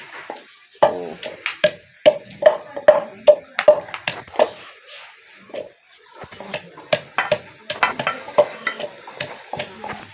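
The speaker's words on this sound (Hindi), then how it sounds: "इधर हमारा लहसुन प्याज मसाला बन रहा है।" A spoon stirs and scrapes a pan where garlic, onion and spice masala is frying for chicken korma, giving sharp repeated metallic clinks in uneven bursts over a faint sizzle, close and loud.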